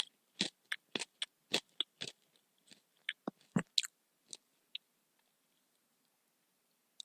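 Someone munches unmarked spicy tortilla chips close up, with a quick run of sharp crunchy bites that slows into scattered, quieter crunches before falling silent.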